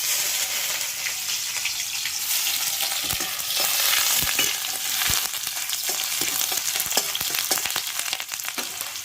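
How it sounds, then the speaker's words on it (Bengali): Minced meat with onion, garlic and ginger fries in oil, giving a steady, dense sizzle and crackle close up, broken by scattered spatula scrapes and pops, with no talking. "এটাকে একটু তেলে পেঁয়াজ রসুন আদা দিয়ে ভেজে নেব"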